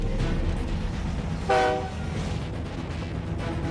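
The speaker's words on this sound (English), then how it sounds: "At last, the locos start to pull." Diesel locomotives on an Australian railway starting to pull a train, a steady low rumble of engines and rolling stock with a brief horn-like tone rising briefly in the middle, heard from close by.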